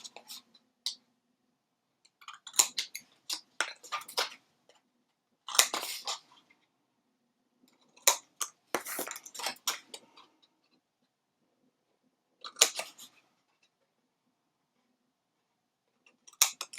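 Scissors snip the corners of a gingerbread-themed Christmas cookie recipe organizer in short, quiet bursts of crisp clicks separated by pauses.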